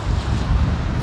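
Steady, roaring wind buffeting the microphone during aircraft arrivals at London Heathrow Airport, a continuous broadband rush with no clear breaks.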